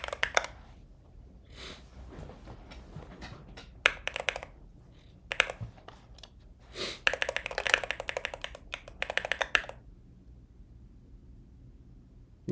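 Bursts of rapid typing on a mechanical keyboard fitted with Glorious Panda switches, crisp clustered key clacks coming in uneven flurries with short pauses, close and fairly quiet, ending in silence.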